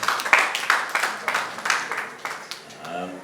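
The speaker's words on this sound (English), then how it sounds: "Please a round of applause for them." Applause and clapping for Nollywood actors and actresses at a premiere event, a series of bursts with crowd noise between them and a little talk mixed in.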